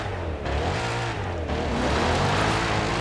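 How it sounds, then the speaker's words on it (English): A 2024 Corvette E-Ray revving in Forza Horizon 5, a loud, close engine roar climbing steadily in pitch with a brief dip before surging again. "let's do a little revving"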